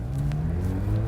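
A car drives along a road past a roadside camera, a steady low engine rumble and tire whir holding close and loud for about a second with no voices.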